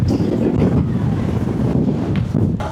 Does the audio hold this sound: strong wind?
yes